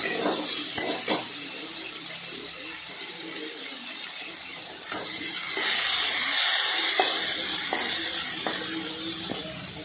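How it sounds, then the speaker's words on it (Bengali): Spices with turmeric stirred in a cooking pot for ghugni, a few scraping spoon strokes against the metal over a steady steamy hiss that grows louder and more sizzling partway through. "হলুদ দিয়ে ভালো করে নাড়াচাড়া করলাম"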